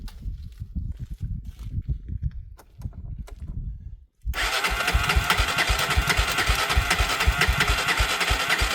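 A Honda TRX 300EX ATV engine cranks over and fires at about four seconds, then settles into a loud, steady, close idle; quieter handling noises come before the start.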